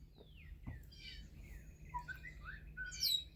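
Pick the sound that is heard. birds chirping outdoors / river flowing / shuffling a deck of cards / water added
birds chirping outdoors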